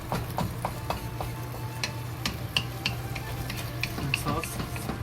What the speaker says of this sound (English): Just stir it until the sauce seek up.